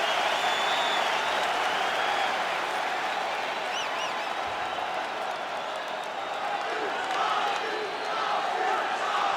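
A capacity arena crowd in the EA UFC 5 video game applauds and cheers in a steady, loud wash before a lightweight championship fight, with faint whistles rising above the noise.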